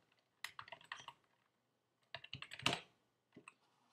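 Two short bursts of quick keystrokes on a computer keyboard, close and crisp in a quiet room, as a title is typed into a Google presentation slide.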